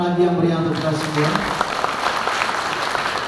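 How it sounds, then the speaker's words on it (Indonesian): An audience at a community talk event in Kediri, Indonesia bursts into dense, lively applause that carries on steadily after a brief spoken introduction from a man. "Saya boleh minta tepuk tangan lagi yang meriah untuk kita semua."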